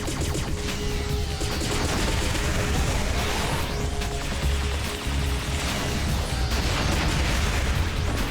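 Continuous rapid gunfire in the video game P.N.03, dense bursts of shots with crashing impacts layered over a busy game soundtrack, loud and sustained.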